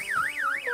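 An anti-theft alarm fitted to a camera wails loudly and close, a continuous electronic siren sweeping up and down in pitch with a steady regular rhythm.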